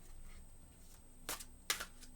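Playing cards are shuffled in two quick, crisp riffling bursts close by, following a quiet room hush.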